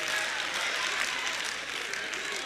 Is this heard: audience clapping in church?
yes